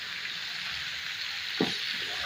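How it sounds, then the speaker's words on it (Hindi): Onion and garlic fry in a pan for a bitter gourd and meat curry, giving a steady, even sizzle throughout with a brief stirring clatter near the end; no one speaks. "मैं इसके अंदर प्याज डाल दूँगी"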